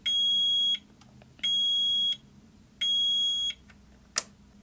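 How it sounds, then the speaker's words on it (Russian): An RKSB-104 dosimeter signals the end of its measurement cycle with three long, high electronic beeps at even intervals, followed by a short click, close and clear with no talk. "После того, как прибор завершит цикл измерения, он издаст звуковой сигнал."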